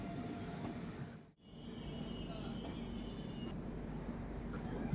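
An LHB-coach passenger train on the Rajahmundry to Tirupati run rolls over the tracks of a road-cum-rail bridge with a steady loud rumble and a thin wheel squeal above it. The rumble dips briefly near the start.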